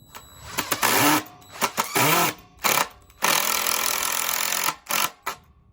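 A Dewalt impact driver drives a screw in close, loud bursts, a few short stuttering pulses and then one longer run of rapid hammering, before it stops.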